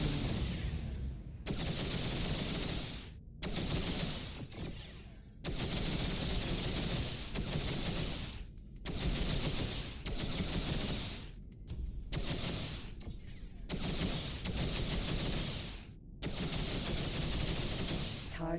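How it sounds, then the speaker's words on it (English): Ship weapons blasting in the space game X3 Farnham's Legacy, long sustained bursts of rapid loud fire separated by brief pauses, repeating across the stretch. "Target is now firing."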